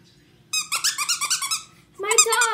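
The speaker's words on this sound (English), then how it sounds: "I have my new teddy bear and it squeaks" A teddy bear dog toy squeaking close by, a rapid run of about ten sharp rubbery squeaks followed by a longer, louder squeal after a short pause.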